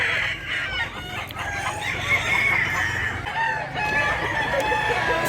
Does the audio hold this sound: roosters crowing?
yes